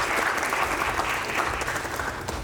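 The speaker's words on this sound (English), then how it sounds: "We get a round of applause for these two superhumans." A brief burst of dense audience applause at an X Games Aspen press conference, steady, close clapping with no speech over it.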